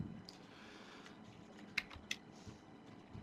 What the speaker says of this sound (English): So I type in my password, my passphrase for my key.